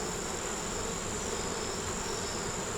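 Honey bees buzz around an open beehive, a dense, steady, close swarm drone that holds at an even level throughout with no voices.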